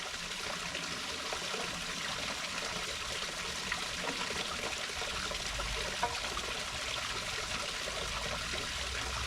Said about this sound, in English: So water trickling down.